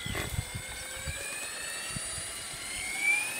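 A Goblin RC helicopter on its first flight, a steady high whine of the rotor and motor with faint thumping, heard at a distance and fairly even throughout, with no talk.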